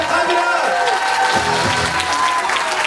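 Wedding guests at a reception applaud the groom's sister and mother, a loud, dense burst of clapping with crowd noise, a few voices and faint tonal music running underneath.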